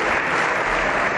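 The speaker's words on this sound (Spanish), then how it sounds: "Entraba la cúpula de Vox, recibida entre aplausos de su partido." Sustained applause fills a parliament chamber as members of the Vox party welcome their leadership, dense, even clapping at close range with no breaks and no voices rising above it.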